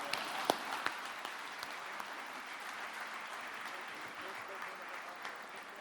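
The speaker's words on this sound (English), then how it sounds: "Let us all show the appreciation by putting our hands together" Steady audience applause at a formal gala night, a sustained wash of many hands at moderate distance with a few sharper claps standing out, continuing evenly throughout.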